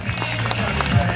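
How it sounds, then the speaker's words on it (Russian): Brief clapping and cheering from an outdoor audience at a summer park magic show, a short dense burst of applause heard up close. "Аплодисменты бурные-бурные моей помощнице, друзья!"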